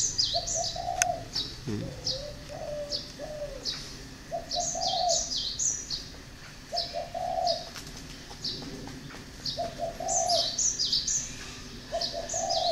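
Spotted doves, a Thai variety, coo repeatedly in short rhythmic phrases close by, with higher chirps and twitters layered between the calls and one brief low thump, no voices.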